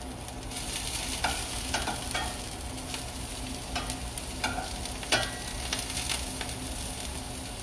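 Mushrooms frying in a pan keep up a steady sizzle while a utensil stirs and scrapes now and then, giving soft intermittent clicks over the constant hiss of cooking.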